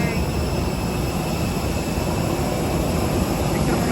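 Steady, loud broadband roar of an airplane at the airport during boarding, a continuous engine drone that holds even throughout with no breaks.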